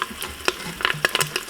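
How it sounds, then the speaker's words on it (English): Tomato paste and shallots sizzle on the sauté setting of an Instant Pot while a spoon stirs and scrapes the inner pot in quick, irregular knocks over a constant hiss. "Continue to stir so that the paste do not stick to the bottom, otherwise it will start to burn"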